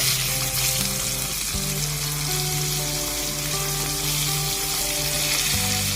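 Green beans and eggplant fry together in a pan with a steady, loud oil sizzle that continues without break, while a low sustained musical tone runs underneath and no one speaks.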